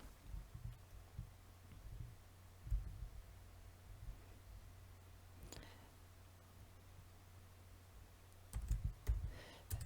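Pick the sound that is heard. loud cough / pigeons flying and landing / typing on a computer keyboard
typing on a computer keyboard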